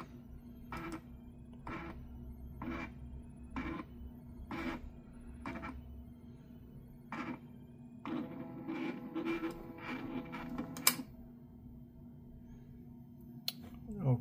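A Roche Urisys 1100 urine analyzer runs its self-check, giving a regular series of about eight mechanical clicks and whirs, followed by a busier stretch of faster clicking and a steady hum.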